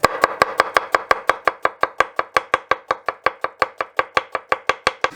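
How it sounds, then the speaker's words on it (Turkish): An onion chopped with a knife on a board in about thirty quick, evenly spaced crisp strikes, close and steady, with no talking. "Hazırsanız önce sebzeleri doğrayarak başlayacağız"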